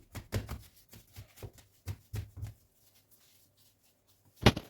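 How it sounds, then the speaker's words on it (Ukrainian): A knife slicing rolled dough filled with bryndza cheese on a floured board: a quick series of soft, close chopping taps, a pause, then one louder final cut. "та нарізаємо ось такі пластики, бачите?"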